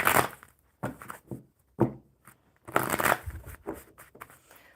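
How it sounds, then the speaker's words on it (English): Playing cards are shuffled in a handful of quick, papery riffle-and-bridge bursts separated by short pauses, close to the microphone. "One more good shuffle for Dave"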